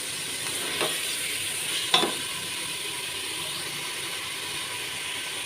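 Boneless chicken for shami kabab fries in a pan with a faint, steady sizzle, broken by a couple of soft stirring scrapes.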